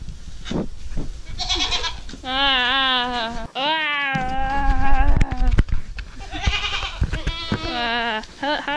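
A friendly goat bleats repeatedly up close in a series of loud, wavering calls, with a person's voice briefly heard between the bleats.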